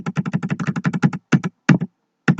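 Rapid computer keyboard typing, a quick run of evenly spaced key presses followed by a few separate, firmer taps after short pauses, close and clear with no talk.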